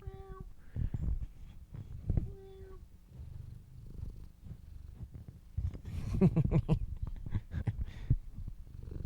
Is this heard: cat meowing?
yes